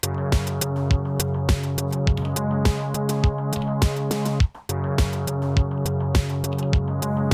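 A punchy sampled drum beat from an Elektron Digitakt with steady kick and snare, crisp hi-hat ticks and quick fills, briefly dropping out midway before resuming, loud and close.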